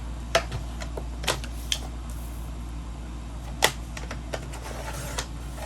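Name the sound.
cutting paper to size for a journal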